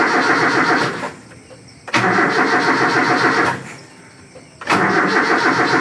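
A car with a carburetor engine cranks with a steady rhythmic churning, stops, then cranks again in repeated starter bursts, each ending abruptly, loud and close.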